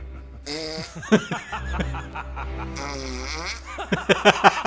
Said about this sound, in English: The farts get louder and so do his laughs.